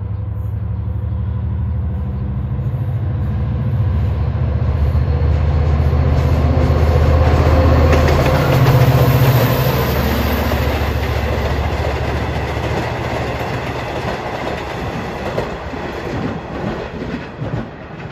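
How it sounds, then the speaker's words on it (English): Long Island Rail Road train 556, Jamaica to Oyster Bay, runs east on track 1 past Elmont with a loud, sustained rumble and rhythmic wheel clatter, swelling midway and easing slightly toward the end. "coming east at 3:23 is train 556 Jamaica Oyster Bay. He's going down track 1"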